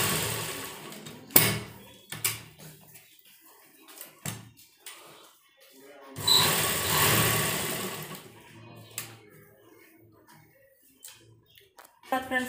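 A sewing machine stitching a sleeveless blouse runs in one sustained burst in the middle, with scattered handling knocks and taps before and after.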